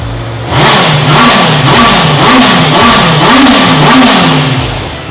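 Motorcycle engine, a Thai-market bike with its original exhaust and a tight-sounding engine, revving repeatedly in loud, close, evenly spaced rising and falling surges over a steady idle.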